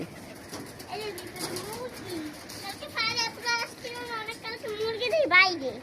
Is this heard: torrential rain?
no